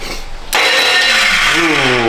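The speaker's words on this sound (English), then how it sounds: "That's what that noise is, that's your starter." Starter motor cranking on a Duramax diesel truck, a loud close grinding whir that kicks in abruptly and runs steadily, with a rising tone as the engine begins to catch toward the end.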